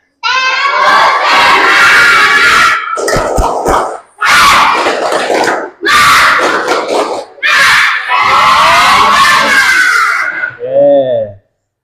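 Schoolchildren in a classroom shouting the tepuk semangat clapping chant together. The chant comes loud and close in several rhythmic bursts of clapping and voices, with short pauses between them, and ends with a brief trailing call.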